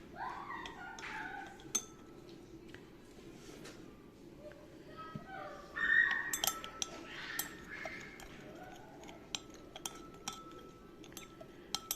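Ingredients for a pet paw shampoo are mixed in a container, producing irregular light clinks and taps of a utensil against glass or metal, with a person speaking at moments.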